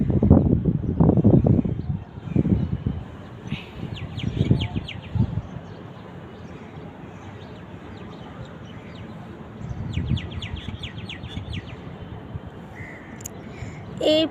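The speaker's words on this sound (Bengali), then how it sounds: "আর এদিকে পাখিরা কিচিরমিচির শব্দ করতেছে।" Birds chirp outdoors on a morning among budding flowers, with faint, high, intermittent chirps in short scattered bursts under steady background noise; a person talks in the first few seconds.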